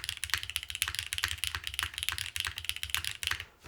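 Steady typing on a Keycult No. 3 mechanical keyboard during a build: rapid, close clacks at an uneven rhythm with a few deeper key bottom-outs, quiet and alone, ending in a brief pause.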